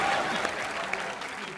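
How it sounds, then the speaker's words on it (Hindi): A studio audience at a TV comedy show applauding, a brief burst of dense, even clapping that fades only slightly over its short span. "अच्छा हमने आशिकी के लिए ताली बजाई"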